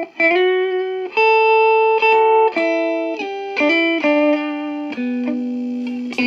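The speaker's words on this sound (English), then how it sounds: "I have my Gresh Electromatic Center Block Junior with TV Jones Duotron pickups here, and I will be playing right now with both pickups on" Gretsch Electromatic Center Block Junior guitar with TV Jones Duotron pickups, both pickups on, played dry with no reverb through a Vox MV50 Boutique amp: a loud run of sustained single notes and chords changing every half second or so, alone.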